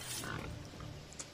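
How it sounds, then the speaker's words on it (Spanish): Pig grunting in Assassin's Creed Odyssey, a short low rumbling grunt heard over a steady game ambience with no talking. "¿Es un cerdo?"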